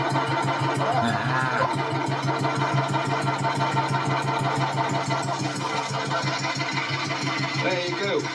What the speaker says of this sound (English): That makes that engine sound clattery as heck.